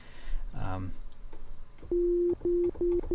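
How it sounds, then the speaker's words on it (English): A steady synthesized sine tone plays in short held notes, starting and stopping in a choppy rhythm after a brief burst of other sound. "So when I play a note now, you get a sine wave."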